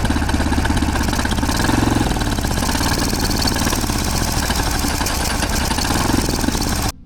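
Turbocharged 390cc golf cart engine running with oil fed through the turbo's cold side, a loud, close, steady rumbling clatter with a rough pulsing beat that cuts off abruptly at the end, with no talking.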